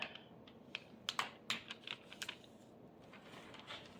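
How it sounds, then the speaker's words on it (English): Paper is folded in half along the center line while making a wiggler skateboard craft, giving a run of quiet, crisp crackles and taps, a few sharper creases early on, fading to soft rustling. "I'm going to fold it right on that center line."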